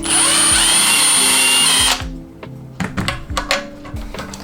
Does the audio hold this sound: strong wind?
no